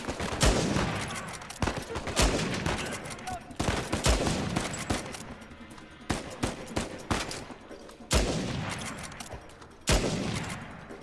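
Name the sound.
gunfire in the video game Uncharted 4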